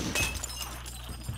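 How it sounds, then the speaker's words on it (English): Glass being shot and shattering in a Rainbow Six Siege match on the Chalet map, a loud bright burst of breaking glass near the start followed by a few smaller crackles and clinks over a low rumble. "Who's fucking hitting the glass?"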